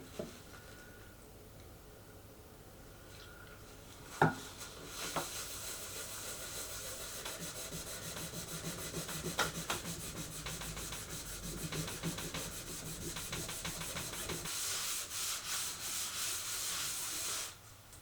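A rag scrubs wax off an old golden oak card index with methylated spirits, a steady soft rubbing and hissing friction that builds and continues across the whole stretch at close range, with no voices.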